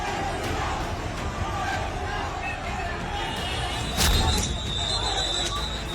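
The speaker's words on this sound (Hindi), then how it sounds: "लाठी डंडे लेकर भीड़ सड़क पर उतर आई है।" An agitated street crowd carrying sticks and clubs in Dhaka, a dense roar of shouting and babble with sharp knocks and a louder surge near the middle, heard close and continuous.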